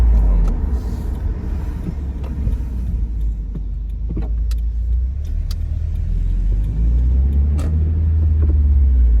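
A manual 2018 Subaru WRX rolls along with a loud, continuous low engine and road rumble heard from inside the cabin, with faint ticks and clicks over the steady drone and no one speaking.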